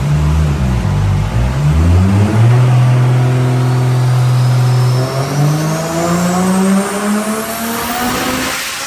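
A built Nissan RB25DET engine in a car on a dyno, revving hard with boost, its loud, steady engine roar rising and falling in pitch and climbing steadily toward the end.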